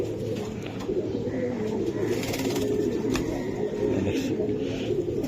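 Giribaz pigeons of the Palla line coo close by in a continuous low, rolling murmur, several birds overlapping.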